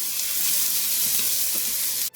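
Peppers frying in oil on very high heat for sweet and sour chicken, a steady loud hiss of sizzling that holds unbroken and cuts off abruptly at the end.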